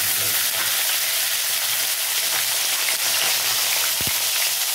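Nigella seeds and green chillies sizzle in hot oil for a Bengali fish curry, giving a steady, close hiss. A brief low knock comes near the end.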